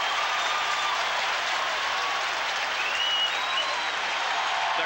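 A huge football stadium crowd roars at Clemson's Death Valley during a 1988 game against Florida State, a loud, unbroken wall of cheering and noise that holds steady throughout.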